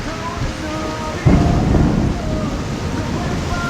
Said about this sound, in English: Rain's starting to let up. A little bit. Still nasty. Still pouring.